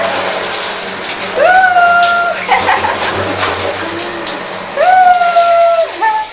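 Indoor water spray falling like rain in a bathroom makes a steady, close splashing hiss throughout, while high, excited voices call out over it.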